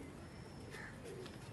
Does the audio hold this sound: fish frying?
no